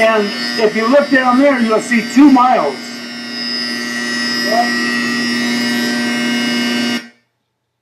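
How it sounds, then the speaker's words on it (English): The klystron of a linear accelerator gives a loud, steady electrical hum and buzz throughout as it generates microwaves, with a person talking over it at first, then cuts off abruptly. "what you hear is the klystron"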